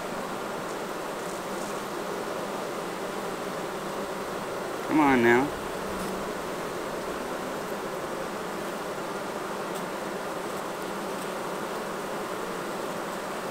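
Honey bees buzzing steadily around a newly introduced queen at the hive, a dense continuous drone close by, with someone briefly speaking quietly partway through.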